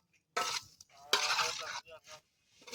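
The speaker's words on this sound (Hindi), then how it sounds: "अभी इसको मिक्स कर रहे हैं देखो अच्छे से मिक्स करना है।" A potato dish being stirred and mixed in a pot outdoors gives loud, close scraping and swishing bursts in quick irregular strokes, with faint clinks between them.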